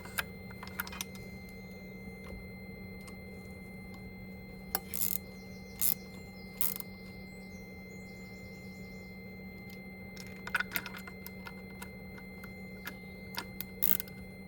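Scattered small metallic clicks and ratcheting ticks from screws being tightened on the EGR valve of a BMW F11 520d estate, coming in short bursts over a steady low hum, no talk.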